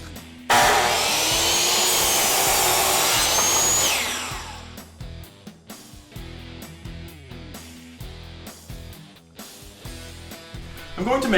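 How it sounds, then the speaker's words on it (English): A table saw rips a 3/4 by 5.5 inch red oak board, a loud steady cutting roar lasting a few seconds before winding down, followed by scattered clunks and handling noises. "I'll just rip it down to the size that I need on the table saw"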